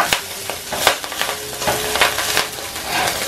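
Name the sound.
stirring rice with golden fried vermicelli in a pan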